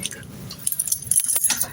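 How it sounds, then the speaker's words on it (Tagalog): Keys jangle close by at a front door being unlocked, a bright metallic rattle that builds and shakes for under two seconds. "Oops, yung susi natin"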